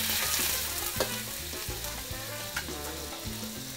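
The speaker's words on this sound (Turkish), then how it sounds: "Şöyle hafiften şöyle bir karıştırıyor, kızartıyor" Jumbo prawns sizzle in a hot pan in a Thai kitchen while being stirred, a bright constant crackle with repeated scraping and tapping of the utensil, close and loud with no voices.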